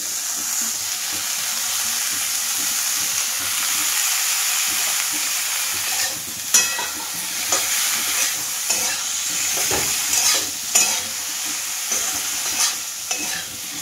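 Bitter gourd coated with red chili, turmeric and salt hits hot oil in a pan, setting off a loud steady sizzle, followed by repeated stirring scrapes and clanks of a spatula, close up, with no voices.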